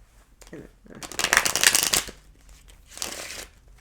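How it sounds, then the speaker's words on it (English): Tarot cards are shuffled in an old-school style, a dense riffling flutter building to a loud burst and then a shorter second riffle, with a voice speaking briefly at the start. "Let me do a little old school shuffle"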